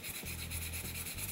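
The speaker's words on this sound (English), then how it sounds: "I start by sanding the comb using long," The wooden stock of a Remington Model 11 shotgun is hand-sanded at the comb, giving a close, soft, rhythmic rasp of long, smooth back-and-forth strokes with no voices.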